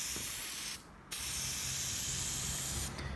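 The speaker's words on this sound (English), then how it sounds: "And we are just spraying the hell out of the coils." Aerosol spray can coating the evaporator coils of a small A/C unit, a loud steady hiss that cuts out briefly, then resumes continuously.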